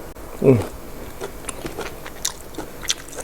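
Grilled pork being eaten: one close, crisp bite near the start, followed by softer, irregular chewing and faint mouth sounds, with a low background murmur.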